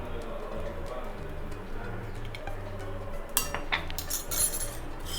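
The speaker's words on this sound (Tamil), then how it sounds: "ஆஃப் பண்ணிட்டு நான் எடுத்து வச்சுருக்க சாதத்தை கலக்கிறேன்" Cooked rice being mixed with gongura (sorrel leaf) podi, with a few light spoon clinks and scrapes against a dish, louder in the second half over a low steady background hum.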